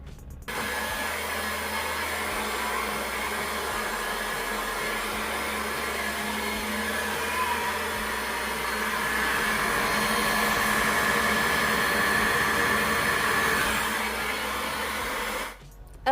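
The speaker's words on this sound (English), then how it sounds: "get ready to blow dry my hair" A Jinri 1875W hair blow dryer runs at close range with a loud, steady whirring roar, switching on at the start and cutting off near the end, with a slight rise in intensity partway through.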